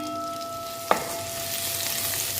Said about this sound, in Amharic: እንደዚህ ቅቤያችን ከቀለጠ በኋላ የተፈጨ ነጭ ሽንኩርት አድርገን ጥብስ